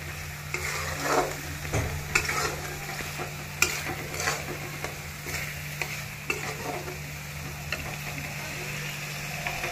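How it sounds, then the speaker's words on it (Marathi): Spoon stirring and scraping shev bhaji masala sautéing in oil over low heat, with a steady soft sizzle and repeated close clinks and scrapes against the pan. "मंद आचेवर परतून घ्यायचं, जेणेकरून आपली तरी चांगली येते."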